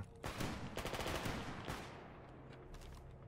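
Rapid bursts of gunfire from a weapon in the video game S.T.A.L.K.E.R. GAMMA, a loud volley in the first two seconds followed by a decaying tail and fainter trailing shots, with no talk.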